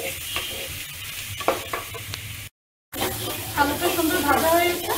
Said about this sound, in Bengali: এটাকে 10 মিনিট পর্যন্ত চুলায় ভাজবো, চুলার তাপ বাড়ানো থেকে পুড়ে যেতে পারে এর জন্য আঁচটা একদম কমিয়ে দেবো।